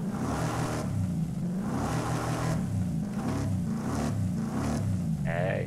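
A Ford F150 engine in Forza Horizon 5 revs in repeated rising and falling surges, a loud, steady, droning car engine note with no voices.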